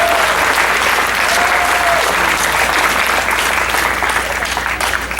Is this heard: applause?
yes